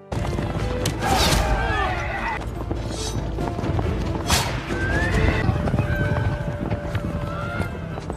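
Horses being released in a film scene whinny and neigh loudly over galloping clip-clop hooves, with repeated cries close by amid a busy rush of movement.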